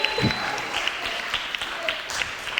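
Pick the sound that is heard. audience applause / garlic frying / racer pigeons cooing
audience applause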